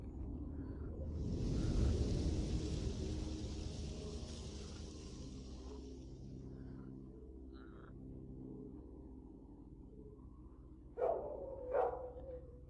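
Dogs attack in S.T.A.L.K.E.R. Lost Alpha: a few short barks and yelps near the end, over a low rumbling ambience and a long hiss.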